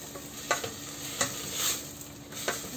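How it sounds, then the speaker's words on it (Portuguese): Tomato, onion, bell pepper and garlic sauté in a pan with a constant moderate sizzle, broken by sharp, evenly spaced clicks and scrapes of a spoon stirring. "coloquei um tomate, uma cebola, um pimentão e refoguei o alho"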